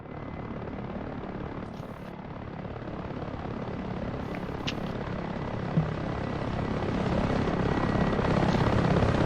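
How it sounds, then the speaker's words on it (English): A Spitfire's piston engine drones steadily in a flight simulator game, a constant dense roar that swells slightly louder toward the end, with no talk over it. "Smokey, I'm now going to select a Spitfire"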